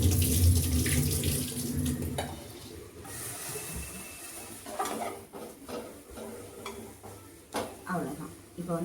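Water is poured into a cooking pot over vegetables fried in oil with chili powder, a close, steady running splash following stirring and pan clatter.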